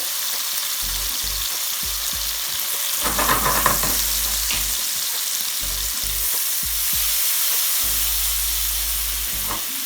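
Minced garlic and butter sizzle steadily in a hot pan, a continuous frying hiss with occasional louder crackles and a brief spatter of stirring near the middle; close and moderately loud, no talking.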